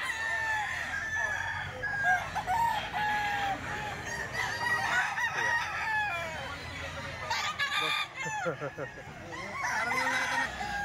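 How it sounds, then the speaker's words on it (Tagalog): Many chickens and roosters at a Sunday grotto market crow over and over and cluck close by, the calls overlapping amid a busy background with voices talking. "Ang daming manok ngayon mga bossing."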